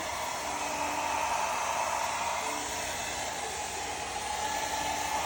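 A hair dryer blows with a steady, even whooshing roar, close by and uninterrupted throughout.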